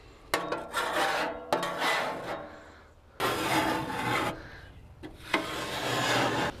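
Scraper rasping carbon buildup off the metal interior of a gas BBQ grill, in several long rough strokes separated by brief pauses, close and fairly loud.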